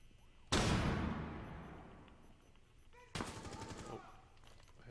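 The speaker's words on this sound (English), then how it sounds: "I hear shooting" Gunfire in Rainbow Six Siege: two sharp bursts of shots a few seconds apart, the first loud with a long echoing decay, the second a rattling volley, heard at moderate distance.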